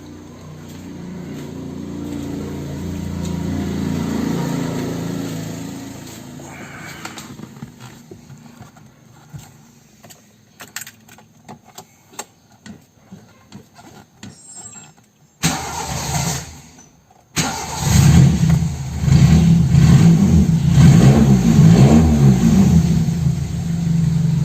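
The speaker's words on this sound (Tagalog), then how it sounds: "Hindi na nagmi-misfire yung engine natin." A Toyota Corolla 2E engine idles with a rough, uneven misfiring rhythm, cuts out briefly, then restarts and runs louder and steadier close by after a condenser replacement.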